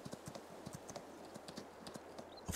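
Horse hooves clip-clop in a steady, even rhythm while riding in Farming Simulator 22, fairly close and alone with no talking.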